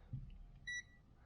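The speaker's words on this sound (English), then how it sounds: "it beeps when two things are connected." A multimeter set to continuity mode gives one short electronic beep, a steady high tone of about a fifth of a second, over a quiet background.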